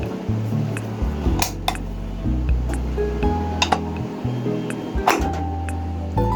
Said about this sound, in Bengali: দেখুন, আমি ঢাকনা লাগিয়ে দিচ্ছি।